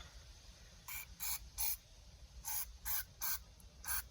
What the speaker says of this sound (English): Let me give it a little spray, a little bit more.